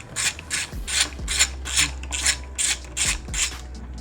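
A ratchet wrench clicks in quick repeated bursts, about eight close, loud strokes at a steady rhythm, as bolts come off the intercooler of a Hyundai Veloster Turbo.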